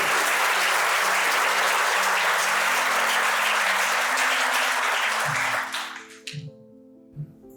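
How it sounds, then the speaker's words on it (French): Wedding guests applaud in a loud, dense burst of clapping that holds steady and then cuts off sharply, leaving a quiet hum broken by a few soft thumps. "Vos applaudissements, mesdames et messieurs"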